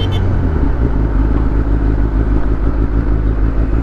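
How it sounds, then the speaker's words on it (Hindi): A new superbike motorcycle engine runs loud and close, a continuous throbbing low rumble with a steady, slightly pulsing rhythm and no clear revs. "बाइक चल रही है यार लिटरली।"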